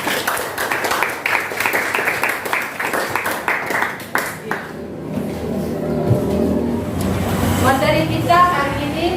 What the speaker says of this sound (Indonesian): tepuk tangan untuk Fatia.